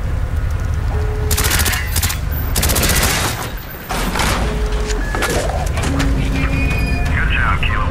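Bursts of gunfire at door hinges in Call of Duty Black Ops, with rapid cracking volleys and booms mixed with radio-style voices talking throughout.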